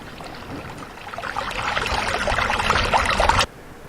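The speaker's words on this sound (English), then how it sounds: "And then we'll transition from this heavier brook to our raging river" A heavier brook flows with gurgling, splashing water that builds gradually in loudness, then cuts off abruptly near the end.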